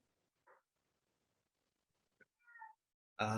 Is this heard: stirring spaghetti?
no